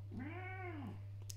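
A single drawn-out meow from a white cat, rising and then falling, close and clear over a steady low hum, with no talking.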